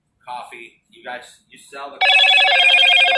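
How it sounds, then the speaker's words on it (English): A mobile phone rings loudly with a sustained electronic tone, cutting in right after a man's speech. "That's my phone going off."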